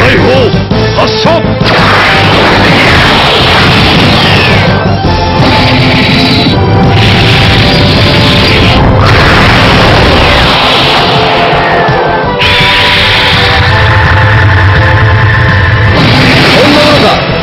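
In the Super Robot Wars Alpha Gaiden final boss fight against Neo Granzon, a cannon blasts with loud continuous crashing explosions and booming impacts that fill the whole stretch, overlaid with dense game audio.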